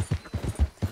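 Horse hooves clip-clop at a steady walking rhythm in the video game Red Dead Redemption 2, about five soft, close hoofbeats with no talk over them.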